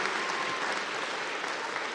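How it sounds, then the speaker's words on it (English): A large indoor audience of adults at a community gathering claps loudly and steadily, a dense continuous burst of applause with no talk over it. "right now give a huge round of applause to all the amazing"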